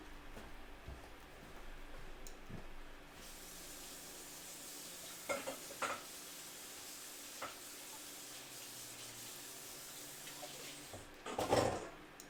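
Okonomiyaki cooking in a pan, a quiet continuous sizzle with a few faint clicks and a short louder clatter near the end, no talking.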